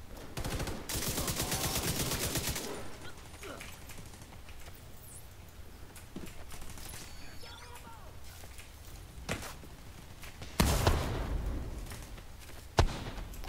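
Bursts of rapid gunfire in The Division 2 played with the Hardwire gear set, loud dense volleys at the start and again near the end, with quieter stretches of game noise between.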